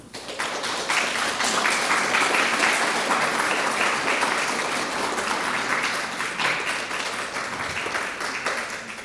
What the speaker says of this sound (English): if you could just give her another round of applause